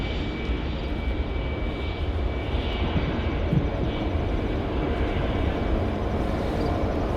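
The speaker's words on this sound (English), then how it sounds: "It is my pleasure to present to you America's newest airlifter, the Boeing C-17 Globemaster III." A Boeing C-17 Globemaster III military airlifter flies at an airshow, its jet engines producing a loud, continuous, steady drone throughout.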